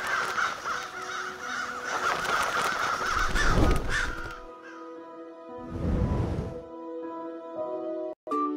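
A crow caws harshly several times over a looping cartoon music bed, loud and close, with the calls in short repeated bursts.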